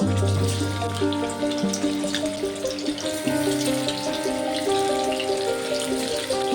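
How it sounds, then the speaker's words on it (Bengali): Katla fish pieces fry in hot oil in a kadai, making a loud, steady, hissing sizzle over a constant humming tonal background, with no speech. "দেখুন বন্ধুরা, তেলটা গরম হয়ে গেছে, আমি মাছগুলোকে ভেজে নেব।"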